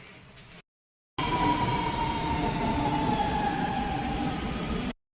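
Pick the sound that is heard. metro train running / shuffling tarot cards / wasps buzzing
metro train running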